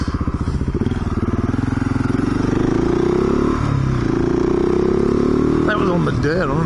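A motorbike on a dirt road, its engine revving hard with a rapid, pulsing beat that climbs and falls through several throttle blips, loud and close, with a voice briefly over it.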